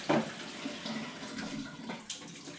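Slightly lukewarm tap water runs in a steady, moderate hiss for sourdough bread making, with a brief splash-like burst near the end and no talk.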